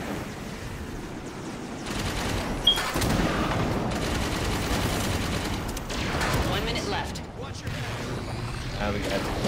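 Sustained volleys of automatic gunfire and booms fill a Halo 5: Guardians multiplayer match, loud and continuous, with game voices talking underneath.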